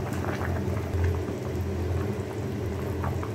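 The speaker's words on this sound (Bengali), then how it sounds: "পানি ফুটে উঠছে, মাছ দেওয়ার পর ধনিয়া পাতা আর" Water boiling with fish in a pot, a steady close bubbling and popping that holds at an even level from start to finish, with no voices.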